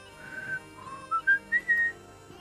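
A person whistling a faint tune in a tabletop fantasy game session, a few short rising whistled notes, soft and close, no talk.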